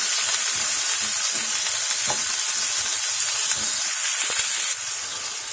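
Red and green peppers dropped onto onion in a hot pan sizzle with a steady dense frying hiss, with occasional soft stirring scrapes, close and continuous.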